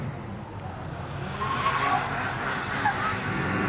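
A rally car takes a sharp bend at a khanacross event, its engine droning steadily with a brief tire squeal at moderate distance over continuous background noise.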